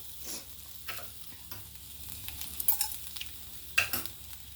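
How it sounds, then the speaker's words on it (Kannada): Grated coconut, chana dal and urad dal roast with salt in a pan, stirred so a spoon scrapes and taps in irregular bursts over a faint dry sizzle. "ಕೊಬ್ಬರಿ ಬಾಡಿಸ್ತಿದ್ದೀನಿ"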